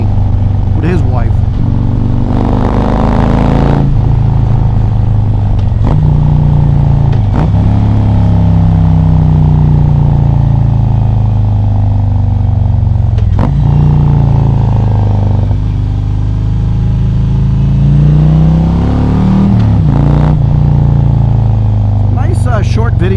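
A Harley Davidson motorcycle fitted with a Mustang seat rumbles loudly through a long ride, its engine drone rising and falling with several throttle surges, under steady wind noise.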